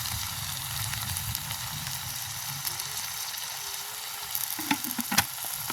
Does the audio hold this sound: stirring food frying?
yes